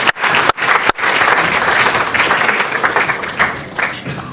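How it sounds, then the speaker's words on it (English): Dense, loud applause from an audience at a scientific symposium session, a steady wash of many hands clapping that carries on throughout, briefly dipping near the start before swelling again. "I think we should give them another round of applause"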